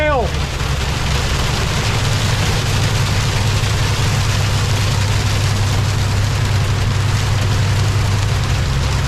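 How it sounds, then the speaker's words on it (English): Hail pelting a car driving on an interstate in South Carolina, a dense, steady hiss of impacts over a low engine and road rumble, loud and continuous throughout. "It started hailing on the dang interstate."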